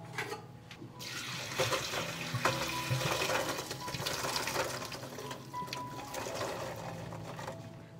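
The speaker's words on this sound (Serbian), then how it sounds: "sada ću prosuti vodu u kojoj se kuvao" Water that beans were boiled in is poured off from a pot, a steady loud splashing pour that runs continuously for the whole stretch with no talking.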